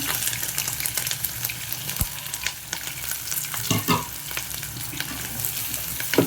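Onion pieces and green chillies frying in hot oil in a pan for bitter gourd curry, giving a loud, continuous sizzle with a few scraping stirs and a clunk of a utensil, close by and with no talking.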